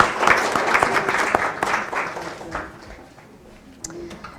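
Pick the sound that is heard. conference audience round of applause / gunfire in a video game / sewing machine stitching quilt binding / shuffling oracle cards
conference audience round of applause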